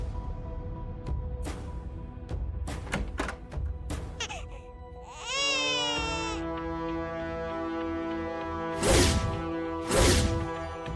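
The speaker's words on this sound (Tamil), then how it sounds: "குழந்தை அழுதுட்டு இருக்கு, யாரையுமே காணோமே." A baby cries in short wailing bursts partway through, loud and close, after a series of sharp knocks and thuds, with two strong louder cries near the end.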